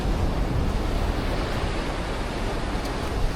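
Sea waves wash onto the shore beside a beach campsite on a rainy morning, a steady, broad rushing surf with a windy edge and no talk over it.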